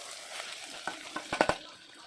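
Onions stirred in a hot pan for a vegetable biryani, giving a steady soft sizzle broken by a few quick scraping knocks of a spoon near the end, close and fairly quiet.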